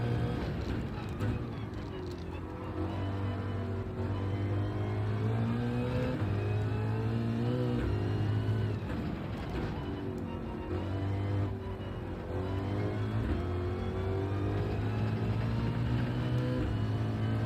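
A race car engine revs and shifts through gears in an endurance race at Trial Mountain Circuit in a racing video game, a steady loud drone rising and falling throughout with a voice talking faintly over it.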